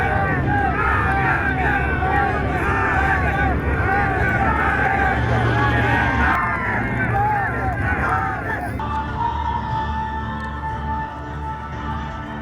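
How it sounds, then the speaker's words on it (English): A festival crowd in the hidden village of Laya cheering and rooting for favorites, a dense babble of many voices with shouts, loud and close, easing slightly toward the end. "they root and cheer for their favorites"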